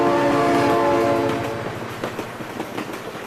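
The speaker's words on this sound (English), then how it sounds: "Oh my god, train!" A train in the BeamNG.drive video game passes close by, its horn blaring loudly at first and then giving way to rhythmic clickety-clack of wheels over rail joints, with no talk.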